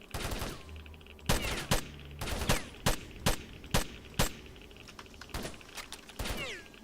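Rifle fire in the S.T.A.L.K.E.R.: Shadow of Chernobyl game, a series of about nine sharp, loud single gunshots in an uneven rhythm over a low ambient hum, with no talk.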